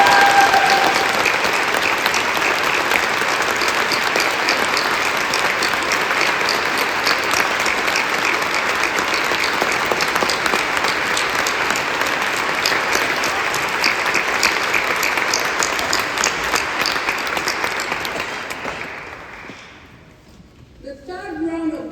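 Graduation audience at the University of Edinburgh applauding its staff, a dense, sustained wall of clapping from a large hall crowd lasting about twenty seconds before dying away abruptly.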